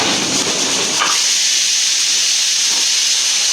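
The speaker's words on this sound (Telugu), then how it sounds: "సౌండ్ కుక్కర్ సౌండ్ వచ్చింది, ఇగ్నోర్ చేయండి." A pressure cooker in a home kitchen releases a loud, sustained steam whistle and hiss that holds steady throughout, close and dominant, with no speech.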